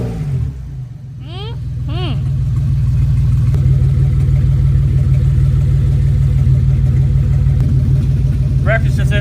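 A car engine running on maple syrup in place of oil revs up and then holds a loud, steady drone, with a couple of squealing chirps standing out above the roar and no voices.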